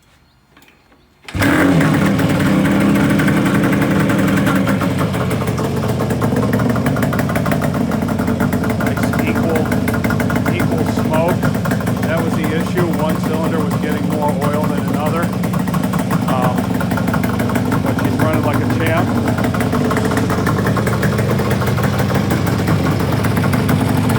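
A 1971 Kawasaki A7 motorcycle, already warm, fires up after a quiet moment and settles into a loud, steady two-stroke idle that runs uninterrupted and close by, with a voice talking over it.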